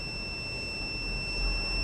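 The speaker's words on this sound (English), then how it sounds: "Red indication, LED and buzzer on." A mask-detection system's buzzer sounds when no face mask is detected, a steady high-pitched electronic tone holding unbroken over a low hiss, fairly faint and without talking.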